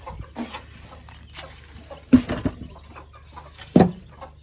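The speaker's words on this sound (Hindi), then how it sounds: "और ये बैठी हैं दोस्तों हमारी डव्स" Doves sit in their coop after being given grain, with soft scattered coos and flutters and a couple of louder bird calls breaking through a quiet background.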